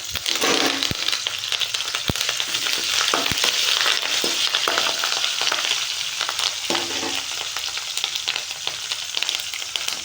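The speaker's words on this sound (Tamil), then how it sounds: "கொஞ்சம் கருவேப்பிலையும் ஆட் பண்ணிக்கலாம்" Garlic and curry leaves fry in hot oil in a pan for a Tamil-style fish curry, giving a steady, loud, dense sizzle with a few sharp crackles and pops, no voices over it.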